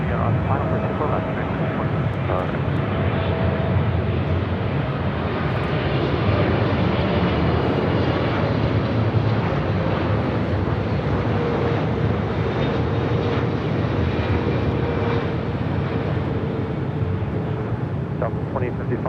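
Airliner arriving from Taipei on final approach to LAX runway 24 left, a continuous loud engine roar holding steady throughout, with radio and voice chatter over it.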